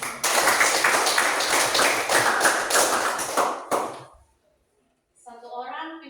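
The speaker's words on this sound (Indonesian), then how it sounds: "kita tepuk tangan dulu untuk kita semua" A class claps their hands together in a loud, rapid, dense burst for about four seconds, then stops abruptly; after a short silence a voice begins speaking.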